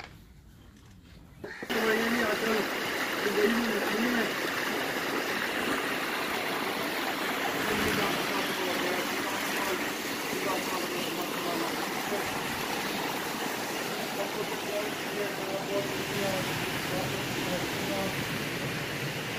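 Pond water spills over its level on a cattle farm and flows out toward the fields, a steady rushing stream that starts abruptly after a quiet moment and then continues evenly.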